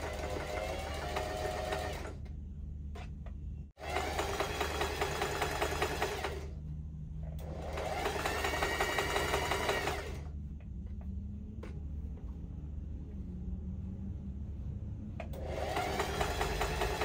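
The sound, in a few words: sewing machine stitching ruffle layers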